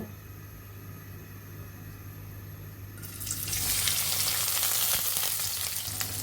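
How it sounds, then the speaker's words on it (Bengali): Chopped onions drop into hot white oil in a pan, and a quiet background hum gives way to a sudden loud, dense sizzle that stays strong and close for several seconds. "আমরা এখানে পেঁয়াজ কুচিগুলো দিয়ে দেব"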